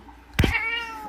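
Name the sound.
cat meowing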